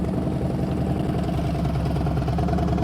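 Motorcycle engine idling steadily through slow-speed riding practice, a continuous low, even rumble with a regular pulse, close and unchanging in pitch, with no revving.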